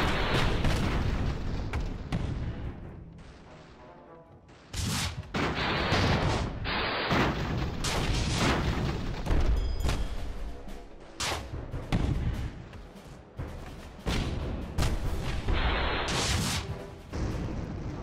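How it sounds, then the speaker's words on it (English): Rapid airship cannon and artillery fire in the strategy game Airships: Conquer the Skies during a castle assault against a missile-equipped armada, dense overlapping booms and bursts rolling continuously, loud and close. "Oh, I can shoot through my own ship."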